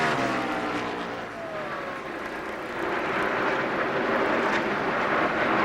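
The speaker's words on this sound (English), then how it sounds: "Two cars running side by side down the backstretch." NASCAR stock cars race side by side down the backstretch with a loud, sustained roar of engines that swells slightly as the pack passes, and crowd and track noise mix in.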